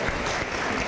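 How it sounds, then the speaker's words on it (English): Graduation audience at a technical school commencement clapping steadily, a dense sustained wash of applause with no pauses, fairly close and loud throughout. "Stop clapping."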